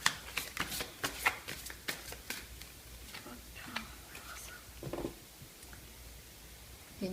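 Tarot cards handled while one is drawn from the deck, with a quick cluster of soft shuffling flicks and taps up close at the start, then quieter rustles.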